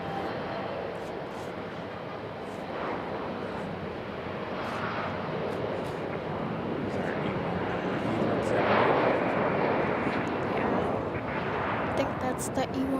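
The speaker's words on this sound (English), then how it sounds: "E170 in view here for departure." An Embraer E170 jet takes off at Raleigh-Durham airport, its engine roar building gradually and peaking near the end, with sharp crackling bursts in the blast and speech heard intermittently over it.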